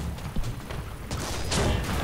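Tank cannon fire aimed at a Soviet T-34 in the War Thunder video game, from a Jagdpanzer IV tank destroyer: a muffled, rumbling boom with low-end thumps and a burst of noisy crackle and reverberation across two seconds, with no voices.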